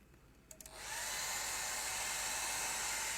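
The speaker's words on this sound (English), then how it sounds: "So I'm just going to get the hairdryer on that for a sec" A hair dryer switches on after a couple of clicks and blows at a watercolour painting, rising to a steady, close, airy whir that runs through to the end.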